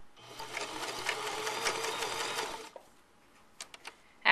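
A sewing machine stitches a button in place with a steady, rapid mechanical whir of close needle strokes that runs for about two and a half seconds before stopping, followed by a few faint clicks.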